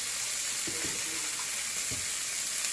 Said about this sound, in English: I'm gonna put my water in the container that I first season up my cow foot